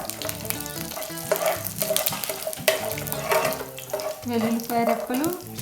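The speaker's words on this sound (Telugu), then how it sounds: "ఈ చిటపట్లు మనం వింటే వేరబ్బా" Chana dal and cumin seeds crackle and sizzle in hot cooking oil for potato pittu, a steady frying hiss with bursts of popping, mixed with clinking utensils and kitchen noise.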